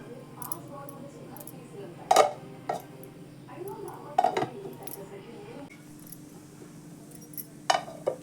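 A metal lid clanks onto a cooking pot several times in a home kitchen while pulses for a village-style dish are prepared, sharp clinks standing out between a woman's speech.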